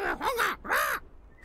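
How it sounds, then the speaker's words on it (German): A parrot in the video game Deponia lets out two harsh, rasping squawks in quick succession, loud and close, followed by a quiet tail of room noise. "den Papagei würde ich gerne mitnehmen und bei Toni auf die Stange stellen"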